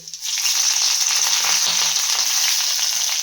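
Garlic and two green chillies frying in hot oil in a pan, a loud, dense sizzle that bursts in right away and holds steady and close, with no talking.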